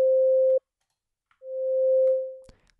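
A synthesizer plays a pure sine-like tone: one short note that stops abruptly, a pause, then a second note with a slow attack that swells in gradually and fades away, followed by a faint click.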